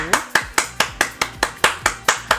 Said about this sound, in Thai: แม่ปรบมือค่ะ